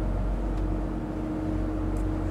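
Engines of a Princess V40 motor yacht rumble at low revs, a steady, deep hum with a constant droning tone and no voices over it.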